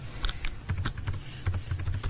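Rapid, close typing on a computer keyboard, a dense run of crisp key taps with a few heavier strokes, with no voices over it.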